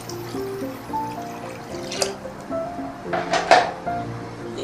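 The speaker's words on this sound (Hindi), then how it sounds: "इसमें आप इतना भी पानी डाल लें क्योंकि ये पानी तो रिमूव होना है" Water pours into a pot of rice for Karachi-style biryani, a bubbling, gurgling trickle with a few clinks of the pot, close and moderately loud.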